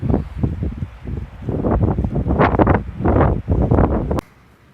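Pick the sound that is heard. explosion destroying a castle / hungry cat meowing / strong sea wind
strong sea wind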